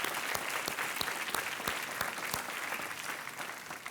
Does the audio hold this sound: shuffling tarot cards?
no